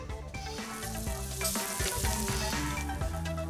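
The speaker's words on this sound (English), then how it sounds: "Now, pan for the bread, a little touch of olive oil." Bread fries in olive oil in a hot pan, producing a steady, close sizzle with bubbling crackles that continue throughout.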